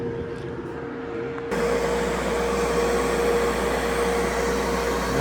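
A hairdryer switches on at full blast and blows steadily into the intake of a Hoffman weatherized HVAC enclosure, a loud continuous broadband roar with a low hum underneath, following a quieter machine hum.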